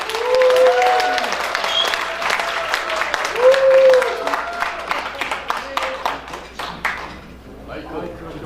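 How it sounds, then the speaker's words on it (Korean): A seated audience at a year-end political forum gives a burst of close, steady applause and cheering to welcome a lawmaker. Clapping carries on for several seconds, overlaid by voices, then thins out and fades near the end. "우리 나경원 의원님을 큰 박수와 환호로 모시겠습니다"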